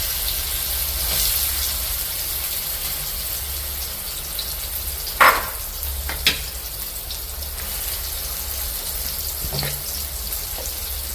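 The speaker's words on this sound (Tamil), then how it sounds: "பீட்சாவுக்கு மேலால் போடுறதுக்காக இந்த சோயா மீட்டையும் வந்து பொரிச்சு எடுக்கப்போம்." Soya meat frying in a pan with salt, cooked as a pizza topping, gives a steady close sizzle throughout with a couple of brief clatters of stirring or utensils partway through.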